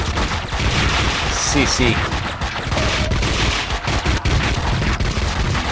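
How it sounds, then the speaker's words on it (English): Rapid gunfire from the video game Max Payne 2, dense overlapping bursts and shots crackling continuously at close range, with a brief spoken word amid the shooting. "Being shot everywhere."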